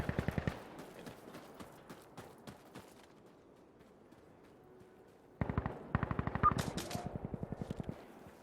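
Rapid automatic gunfire in a video game comes in quick rhythmic bursts of closely spaced shots, one burst at the start and a longer, louder run in the second half, separated by a quieter lull without talk.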